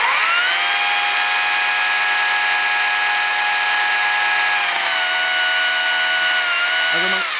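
A DOLMAR battery chainsaw cuts through wood with a loud, steady high-pitched whine that holds for several seconds and drops slightly in pitch near the end as the cut finishes.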